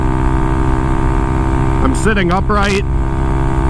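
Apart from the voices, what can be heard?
Honda Grom motorcycle riding in fourth gear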